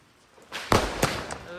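Firecrackers go off in a quick string of sharp, loud bangs, three main cracks in just over a second, each ending in a brief crackling tail.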